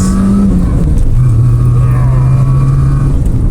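A Peugeot 106, an old car, revs hard under full throttle, the engine droning loud and close with a steady rising pitch for a few seconds and no talk over it.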